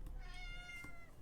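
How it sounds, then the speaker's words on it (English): A cat that is knocking things over gives a single drawn-out meow, close and clear, with a little room noise behind it. "Oh, you're knocking everything over! What a good cat."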